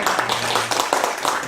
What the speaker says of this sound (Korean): 다 같이 박수로 맞이해 주시기 바랍니다.